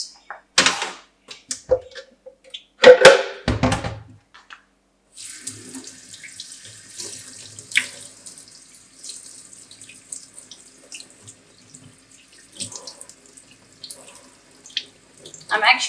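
Tap water runs into a sink while slow juicer pulp is rinsed away, a steady hiss of flow lasting most of the stretch after a few louder clatters and splashes at the start.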